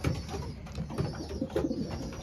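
Soft, steady cooing of racing pigeons, low murmuring calls overlapping continuously and close by, with no voices.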